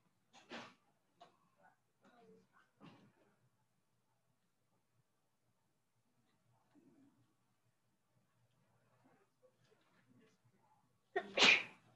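A single sharp sneeze bursts out near the end, after a few quiet scattered voice sounds and a long near-silent stretch.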